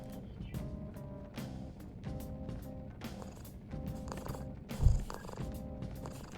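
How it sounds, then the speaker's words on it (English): A soft, rhythmic purr of the cat Morgana from Persona 5 Royal, played through a DualShock controller's speaker, rumbles in repeated pulses, close and fairly quiet, with a few light clicks and rustles around it. "makes Morgana purring noises"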